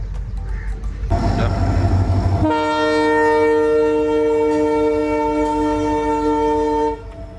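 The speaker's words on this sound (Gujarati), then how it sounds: "હા, માલગાડી" A heavy freight train rumbles past close by, then a loud sustained horn blares for several seconds before cutting off.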